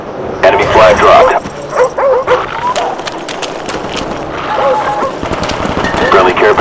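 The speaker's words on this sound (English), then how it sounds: "Hostile dog spotted in your area." Hostile attack dogs in the shooter game Call of Duty: Black Ops bark and yip in loud, rapid bursts, with whimpers mixed in, over continuous in-game noise and voices.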